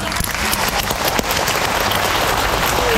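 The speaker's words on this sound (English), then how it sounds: "Now you all can try to clap as much as you want to distract him." An audience claps together at a sea lion show at Splash Safari in Singapore Zoo, dense sustained applause from many hands, loud and continuous for the whole stretch.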